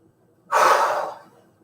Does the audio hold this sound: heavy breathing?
yes